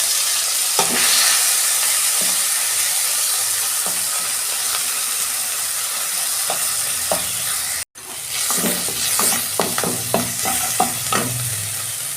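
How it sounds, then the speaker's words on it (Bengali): Small shrimp seasoned with salt and turmeric fry in oil in a wok, a continuous close sizzle broken by a brief cut, then repeated clinks and scrapes of stirring over the hiss. "এই চিংড়ি মাছটা ভাজবো আমি"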